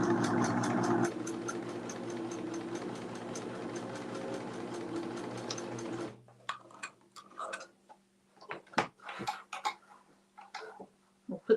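A plain old domestic sewing machine runs steadily for about six seconds with a fast, even ticking stitch rhythm, then stops, leaving scattered handling clicks and light rattles.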